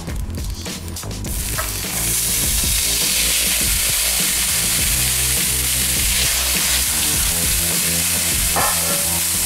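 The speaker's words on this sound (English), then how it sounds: "we're going to take our meat, we're going to bring it back to the pan" Meat for cheesesteak pockets goes back into a hot pan and erupts into a loud, steady sizzle and hiss that holds for several seconds, with faint stirring scrapes beneath.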